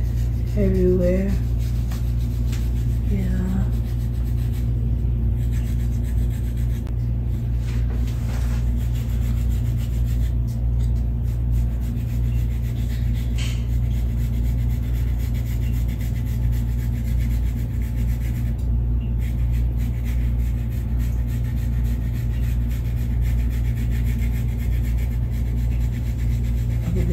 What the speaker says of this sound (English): My husband's doing such a good job scratching at my scalp